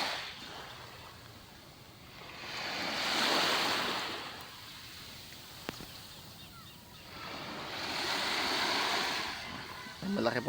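Sea waves washing onto a calm beach in the morning, two slow swells of surf rising and receding against a soft background hiss of wind, with a faint knock or two near the end.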